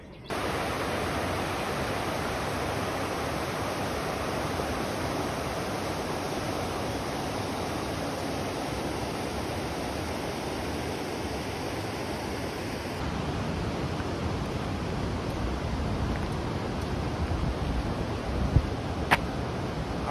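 Rushing torrent of the Lima river at Bagni di Lucca, a dense, steady broadband roar of water that holds at constant loudness throughout, close by and with no talk over it.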